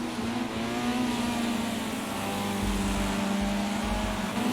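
Race cars drive in a sim racing video game, a dense, continuous engine drone with a steady pitch that carries on without a break, loud and close with no talk.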